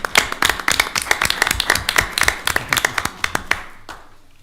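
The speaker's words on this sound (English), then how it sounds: "Mayor, just give them a hand clap." A small group clapping hands in applause at a Penn Hills council voting meeting, a quick run of sharp close claps for about four seconds that thins out and stops.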